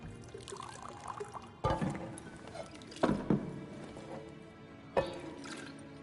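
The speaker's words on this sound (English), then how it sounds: "Pour me another." Drink poured in The Witcher 3 video game, a short liquid pour heard amid game ambience with a few sharp clunks, no talk over it.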